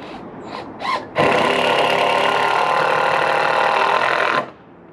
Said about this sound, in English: Now let's see if we can get some screws in it